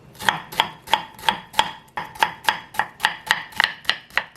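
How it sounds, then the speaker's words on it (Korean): Long gourd cut into thin matchstick strips with a kitchen knife on a cutting board, sounding as a steady run of about fifteen crisp, close chopping taps at an even, quick pace with no talking. "그냥 이렇게 잡고 어, 채를 서는 게 더 나을 수도 있습니다"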